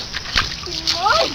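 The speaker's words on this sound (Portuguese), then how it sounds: "Tem que pisar mesmo na água." A child's foot stamps into a shallow puddle of water, giving one short splash, with a voice chirping faintly around it.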